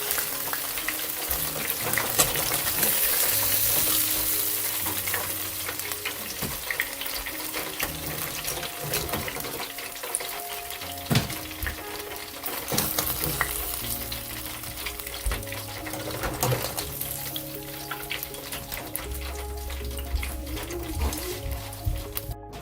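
Chicken pieces deep-frying for crispy fried chicken, a steady loud sizzle and crackle of hot oil throughout, with occasional stirring clinks and faint running water in the background.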